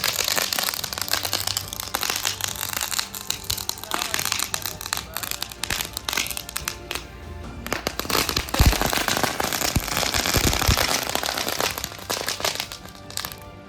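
Roll cap firecrackers set off, a dense run of sharp small cracks and crackling pops close by, with a few heavier bangs near the middle and faint voices in the background.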